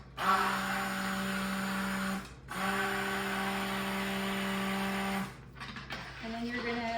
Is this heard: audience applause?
no